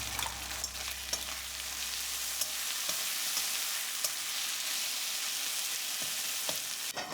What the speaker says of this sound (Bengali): সুন্দর মুচমুচে করে ভাজা হলে তুলে রাখবে